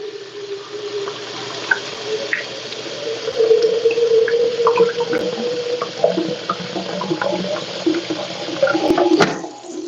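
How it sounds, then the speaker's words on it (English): Hot water running and splashing into a pot while preparing steamed fish and dumplings, a continuous close gurgling stream with small drips and clinks throughout. "Let's throw some hot water on this"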